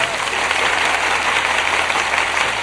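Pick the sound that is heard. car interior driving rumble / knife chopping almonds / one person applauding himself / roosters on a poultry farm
one person applauding himself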